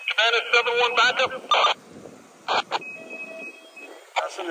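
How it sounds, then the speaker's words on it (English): On an FDNY fireground radio channel at a second-alarm fire, an emergency alarm sounds as a thin, steady electronic tone lasting about a second. Clipped radio voices speak before and after it. "That's an emergency alarm."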